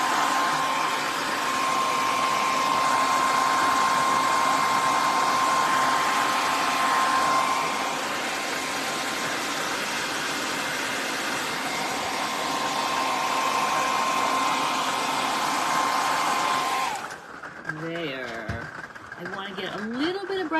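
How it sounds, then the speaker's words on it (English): A hair dryer blows with a loud, steady whooshing hum for a long stretch, then switches off as a voice speaks. "Let me hit this with the hairdryer super quick,"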